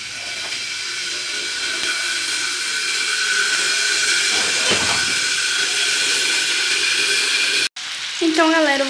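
Sliced calabresa sausage fries in a pan with a loud, continuous sizzle and hiss held close for several seconds. The sizzle drops out abruptly near the end before a voice speaks over it.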